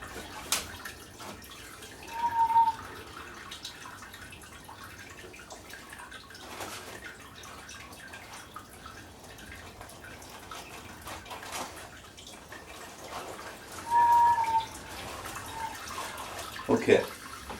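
Sparge water runs and pours steadily during a Belgian Dubbel home brew, a faint continuous splashing flow with occasional louder gurgles and some talking in the background.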